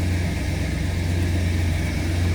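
A restored 1970 Oldsmobile 442 V8 idles while warming up, a steady low rumbling drone heard close and continuous without speech.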